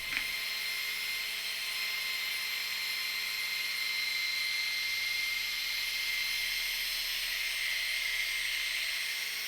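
Power buffer with a sponge pad running steadily on a lacquered guitar body, polishing it with Meguiar's Mirror Glaze Ultra Finishing Polishing Compound 205; a constant, close whirring drone with no breaks and no voices.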